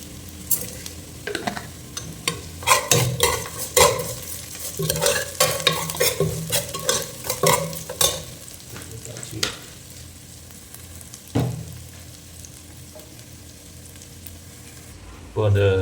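Fish frying in a pan of hot oil for a fish curry, with crackling sizzle and intermittent spatters alongside scraping and stirring clatter, the activity dying down midway before another brief clatter near the end.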